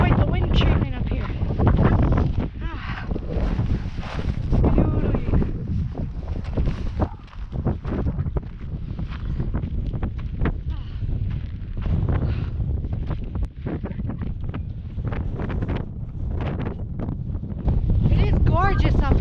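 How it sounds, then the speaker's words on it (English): Strong wind roars over an Iceland mountaintop in snow, buffeting the microphone with loud, continuous gusts while someone talks. "Quite the wind churning up here."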